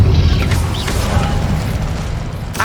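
Incendio fire spell cast in Hogwarts Legacy, a loud fiery whoosh and crackling burst over a rumbling game soundtrack, with a few sharp pops layered in.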